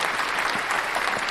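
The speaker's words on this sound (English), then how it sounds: "I'm gonna give you a round of applause on that one." A short burst of applause sound effect, dense steady clapping from a crowd at even loudness throughout a little over a second.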